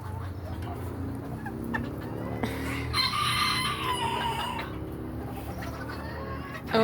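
A rooster close to the camera clucks softly, then lets out one long, loud crow in the middle, followed by more low clucking.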